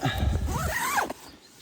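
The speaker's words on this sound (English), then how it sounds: "Pull down the zips either side," A zipper on a rooftop tent being pulled down, one close, loud, rasping zip of about a second that ends abruptly, with no talk.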